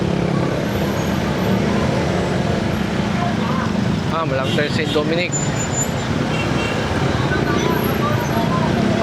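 Congested road traffic in Sapote, Parañaque, a constant loud hum of engines and roadway noise, with a person speaking briefly over it midway.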